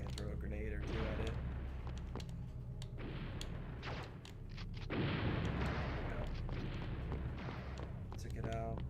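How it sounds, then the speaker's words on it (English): Grenades strike a tank in a PS1 game, with repeated rough explosions and gunfire-like bursts over a constant low rumble and a loud blast midway, while game music plays underneath. "Oh, there's a tank there. Okay, throw a grenade or two at it."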